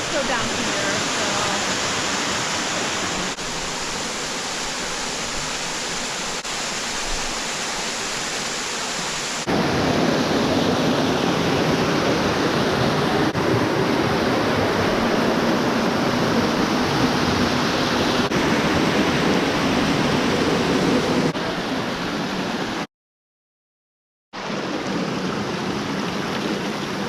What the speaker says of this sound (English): Turns out this is the actual waterfall though.